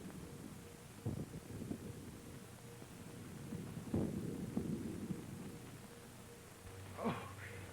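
Distant thunder from an approaching storm rolls in as three faint, low rumbles, spread apart over a quiet, hissy background.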